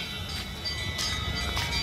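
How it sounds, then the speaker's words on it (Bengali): A train pulls into a station platform somewhere behind, heard as a low rumbling roll with faint metallic tones over a short stretch at moderate distance. "পিছন দিকে এখন ট্রেন ঢুকছে।"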